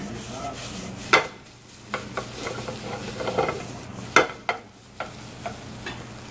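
Cooked rice stir-fries in oil in a hot pan, giving a soft steady sizzle broken by scattered sharp spatula taps and scrapes against the pan, close and with no one talking.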